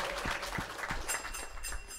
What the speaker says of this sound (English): Give the young man a big round of applause.